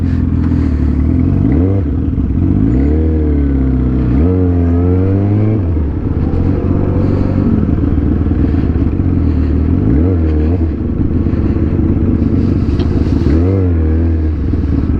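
A Yamaha R1 sport motorcycle engine revs loudly and close up, its pitch rising and falling in repeated throttle blips over a steady, raspy running roar, with no voices over it.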